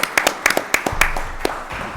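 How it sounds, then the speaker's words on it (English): Modest round of applause at a Rotary candidate forum, a handful of distinct claps from a small room, fairly close and brief. "could you join me in a round of applause for our candidates?"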